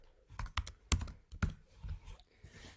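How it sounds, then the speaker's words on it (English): Keys clatter on a computer keyboard as a time entry is typed into a timesheet, an irregular run of close, crisp taps with short pauses between them and no voices. "The other option is to type in your time manually."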